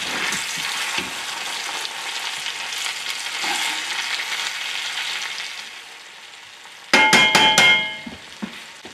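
Venison liver browns in melted butter, a steady loud sizzle with crackle that drops off slightly, then a burst of metallic clanks from a utensil against the pan near the end.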